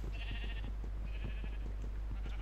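A Minecraft sheep in the Tekkit modpack bleats twice, short nasal game-style calls over a steady low background hum, fairly quiet with no talk.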